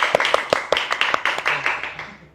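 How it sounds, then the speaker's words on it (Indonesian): A small group at a live school alumni podcast gives a brief round of clapping, a few sharp distinct hand claps close by that thin out and fade within a couple of seconds. "Kita harus tepuk tangan."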